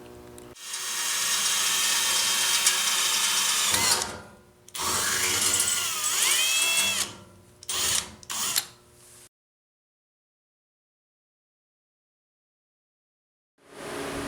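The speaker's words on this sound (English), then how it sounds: "drill some holes, and get the front of it mounted up" A power drill whirs loudly through holes in a car's front splitter and bumper, in several bursts of varying length with pitch shifts as the bit bites, then a long silence before it starts again.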